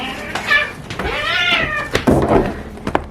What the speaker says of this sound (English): Are the cats fighting?